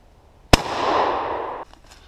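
A 12 gauge shotgun loaded with a homemade shell of .22 pellets fires once, a sharp, loud blast followed by a long rolling echo that fades over about a second.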